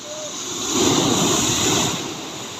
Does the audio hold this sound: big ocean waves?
yes